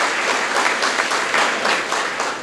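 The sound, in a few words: applause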